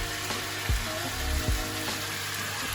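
Chicken and cheese croques fry in a pan with a steady close sizzle, a few sharper low pops and spatters rising out of the constant crackle.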